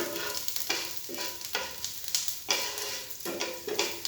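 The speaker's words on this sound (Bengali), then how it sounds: "রসুনগুলো নাড়াচাড়া করে হালকা বাদামি রং হয়ে আসলে প্যানের এক পাশে" Garlic stirred in a frying pan, sizzling steadily with repeated scraping strokes of a utensil roughly every half second, close and clear with no talk.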